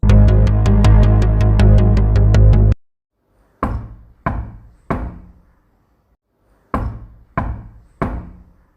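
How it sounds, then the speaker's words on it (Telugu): Two bursts of three sharp knocks on a door, loud and close, separated by silence, following a steady electronic phone tone at the start. "ఎవరో డోర్ కొడుతున్నారు"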